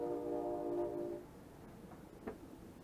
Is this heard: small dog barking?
no